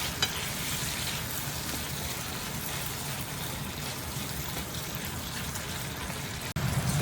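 Garlic, onion and ginger sizzling in hot oil for mutton karahi, a steady close frying hiss that runs throughout while the pieces are stirred, with a brief break near the end.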